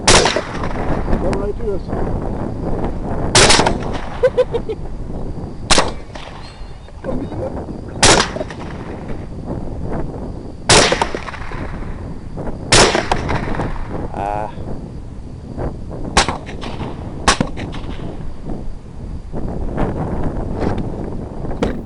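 Sharp rifle gunshots fired at feral hogs during a windy North Texas hunt, about ten loud cracks spaced a few seconds apart over steady wind buffeting, with someone speaking briefly between shots.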